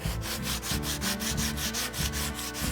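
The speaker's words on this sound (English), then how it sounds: "we're going to use some sandpaper to smooth it over" Sandpaper rubs back and forth over the end of a wooden stave in quick, regular strokes, a close, soft scratching rhythm with no talking.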